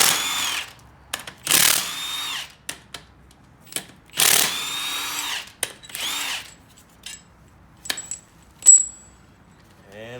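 A power tool with a 15 mm socket spins the hub bolts off a spindle: several short, loud whirring bursts in an uneven rhythm, separated by quiet gaps with light metallic clinks and rattles of loosened parts.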